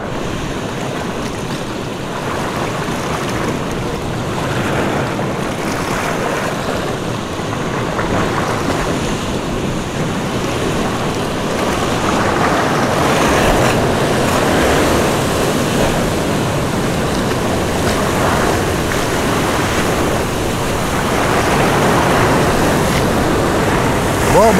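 Rough surf breaking on the shore at a fishing spot in Bani, Pangasinan: a continuous loud wash of waves with wind buffeting the microphone, no voices.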